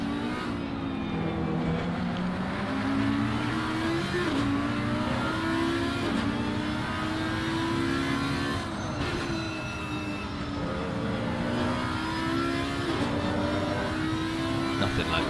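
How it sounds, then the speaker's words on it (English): A V10 GT3 race car at Zandvoort in the racing game Assetto Corsa Competizione roars continuously, its engine pitch climbing and dropping through gear changes and braking across the whole stretch. "Nothing like the sound of a V10."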